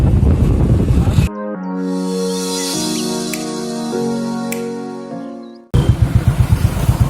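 A close motorcycle engine carrying three riders in the Kapilvastu area thrums briefly, gives way to a stretch of sustained musical tones, then the throbbing engine returns loudly.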